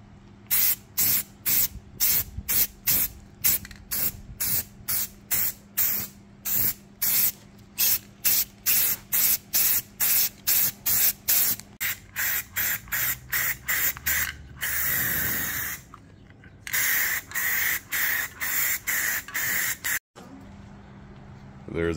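Repeated short bursts of aerosol spray paint hissing onto an Acura Integra front bumper in a quick rhythm, then one longer continuous spray, close and loud, with brief pauses between.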